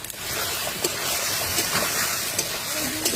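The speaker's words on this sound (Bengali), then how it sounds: "মাটনটা নেড়ে চেড়ে দিচ্ছি" Mutton with chopped tomato and salt sizzles in a hot pan while being stirred, giving a steady, close frying hiss with faint scraping ticks throughout.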